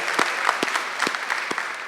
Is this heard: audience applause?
yes